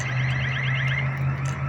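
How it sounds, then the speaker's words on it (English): A car alarm at a used-car dealership on King George Highway blares a rapid, repeating warbling tone with a steady low drone underneath, loud and continuous. "The alarm's been going there for at least a minute and now it's stopped on its own."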